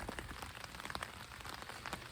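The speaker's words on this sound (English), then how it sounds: "So as you can probably hear, it has started raining, which is cool." Steady rain patters on the surface of the Jagst river at dusk, a dense, even hiss of many small drops with scattered slightly louder taps, fairly faint and continuous with no voices.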